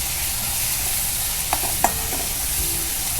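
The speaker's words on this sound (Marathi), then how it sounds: "आपलं मसाला पण परतून झालेला आहे चांगला।" Black masala sautéed in oil for sandgyachi bhaji, a soft continuous sizzle with a couple of brief spatula scrapes partway through, close and fairly quiet, with no speech.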